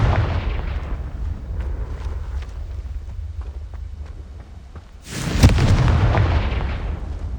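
A Confringo fire spell blasts in Hogwarts Legacy: a sudden loud, roaring burst cuts through a rumbling low background and then lingers as a heavy, crackling wash.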